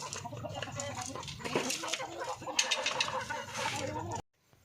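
Chickens clucking and murmuring in a steady, busy chorus in an enlarged backyard coop, with faint outdoor noise, before cutting off abruptly.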